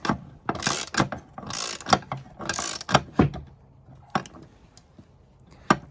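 Ratcheting wrench clicks while bolting down a diamond drive on an Arctic Cat Sno Pro F8 snowmobile, several bursts of quick metallic clicks in uneven rhythm, close and fairly loud, followed by sparse single clicks.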